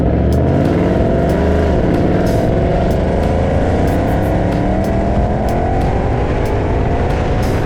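A Ford Mustang engine rumbles loudly and steadily while cruising, its revs rising gradually with a deep, throaty exhaust tone and no talking.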